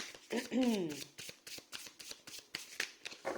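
Tarot cards shuffled by hand in a series of quick, crisp riffling flicks close to the microphone, with a brief voice-like tonal sound early on.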